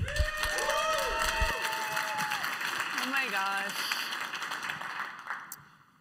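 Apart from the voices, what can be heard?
conference audience applauding a speaker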